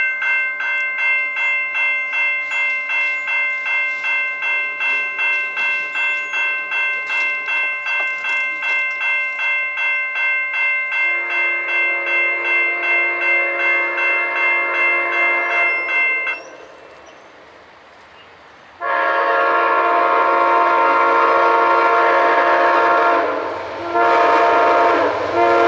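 An Amtrak Palmetto passenger train rumbles past northbound at Glen Allen with rhythmic bell clanging, then a loud sustained horn blast sounds close by, pauses, and blares again.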